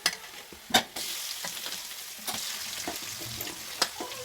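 Boiled greens tipped into a pan of fried onion and stirred, a few sharp scrapes and clatters over a steady sizzle that rises once the greens go in, close and alone with no voices.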